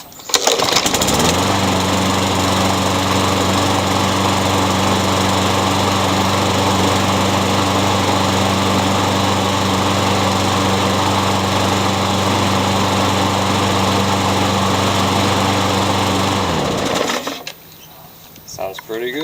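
A Poulan Pro lawn mower engine, just tuned up with a cleaned carburetor and a new air filter, runs at a loud, steady, even drone for about sixteen seconds, then shuts off abruptly.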